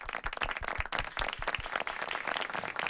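An audience applauds at the close of a music performance, a steady, dense wash of clapping filling the room throughout, with no voices over it.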